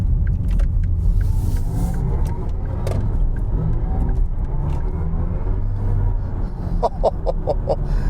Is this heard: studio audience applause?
no